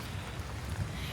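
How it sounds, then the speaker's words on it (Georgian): Light rain falls on the Caribbean coast at Bocas del Toro, a steady, soft hiss with no distinct drops standing out. "რაღაც აქ უფრო სუბუქი წვიმაა, ვიდრე შეეფერება ტროპიკებს"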